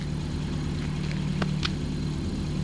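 A car engine fitted with a homemade ignition condenser idles smoothly and evenly, a steady close drone that holds without a break, with a couple of faint clicks in the middle.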